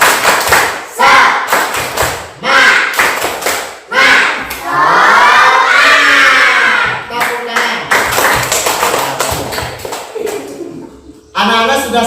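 Primary schoolchildren in a classroom do a rhythmic clapping chant with their teacher, sharp group claps in patterned bursts mixed with loud shouted voices, and adults and children talk around it.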